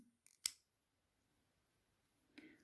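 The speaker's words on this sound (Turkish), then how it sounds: "Ben bu ipimi kesiyorum." Scissors cut thread once with a single crisp, close snip in an otherwise quiet room, followed by a faint rustle of handling.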